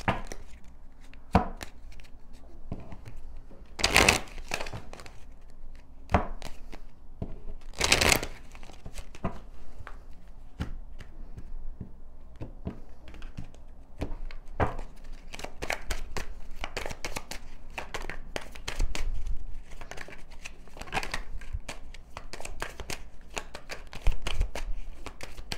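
Oracle cards are handled and shuffled up close, giving soft papery riffles and flicks in irregular bursts, with a few sharper slaps between quieter stretches of rustling.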